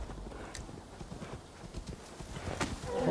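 Horse hooves clip-clopping steadily in Assassin's Creed Valhalla, a continuous mid-distance trot with a brief whinny-like cry near the end, no speech.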